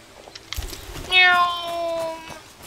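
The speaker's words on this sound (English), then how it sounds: "Meow." A cat meows once in the video game Among Trees, a clear drawn-out call at moderate loudness following faint clicks and light background sounds.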